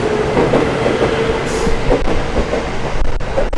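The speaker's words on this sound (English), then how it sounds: "Just missed the train." A commuter train pulls out of a station in Bogor, Indonesia, with a loud, continuous rolling rumble, rhythmic wheel clatter and a brief squeal, close by and heard without speech.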